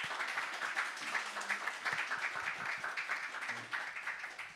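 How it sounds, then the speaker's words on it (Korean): Applause from an audience at a church opening thanksgiving service and vision ceremony, a steady wash of many hands clapping across the whole stretch, moderately loud and even. "다시 한번 큰 박수 부탁드립니다"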